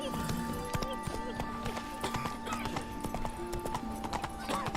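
Hooves of a horse galloping in The Witcher 3 video game clatter in a steady, fast clip-clop rhythm throughout, with a brief whinny and bits of voice and game ambience underneath.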